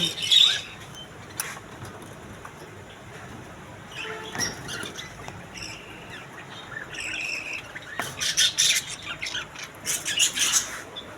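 Caged lovebirds, budgerigars and cockatiels at the Pabna Kashinathpur bird and pigeon market give sharp intermittent squawks and chirps, some close and loud, over a faint busy background.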